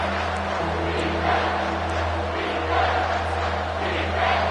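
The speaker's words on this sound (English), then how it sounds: "Decibels rising as the crowd gets behind this defense on third down." A college football stadium crowd at Michigan vs UCLA roars steadily as fans rally behind the defense on third down, a continuous, fairly distant wall of cheering noise without clear individual voices.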